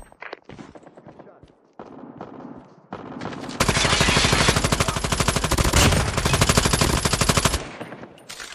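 Sentry gun in Call of Duty Mobile capture the flag firing one long, loud, rapid automatic burst of several seconds, preceded by scattered game sounds and brief voice lines.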